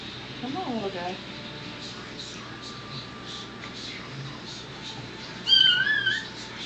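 A newborn miniature dachshund puppy gives a few high, kitten-like squeaks, a short cluster near the start and a louder burst near the end, close and fairly faint over quiet room noise.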